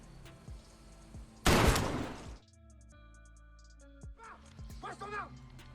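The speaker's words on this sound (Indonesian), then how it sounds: "Louis pun menembak Frank hingga terjatuh ke jurang" A loud gunshot burst erupts once in a film scene, a sharp roar lasting under a second amid tense background music, with voices following.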